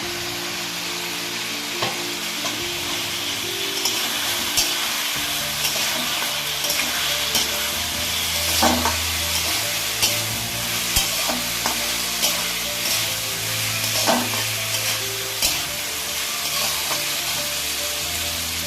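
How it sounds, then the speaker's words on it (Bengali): Potatoes with spices sautéing in a pan for a vegetarian aloo dum, a steady sizzle and fry with repeated scraping stirs of a spatula, close and continuous with no talk. "সেদ্ধ করে আলু আর ভাজা আলু থেকে ভালো করে মশলা থেকে কষিয়ে নেবো"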